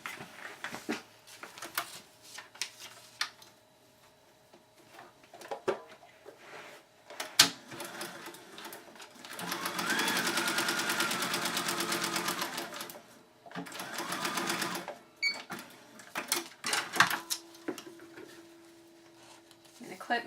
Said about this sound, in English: I'm going to sew the seam between piece number 3, I3, and I4.